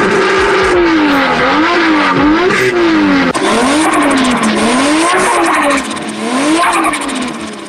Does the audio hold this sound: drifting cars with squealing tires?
yes